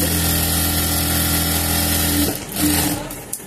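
Sewing machine running steadily while stitching a baby blouse cut from saree fabric, a close continuous motor hum that slows and stops near the end before a brief restart.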